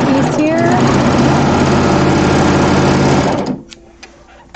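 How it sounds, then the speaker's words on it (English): A serger overlock machine stitches quilt pieces together in a steady, loud, continuous mechanical whir that stops abruptly near the end, followed by a few small clicks. "you can piece on your serger too"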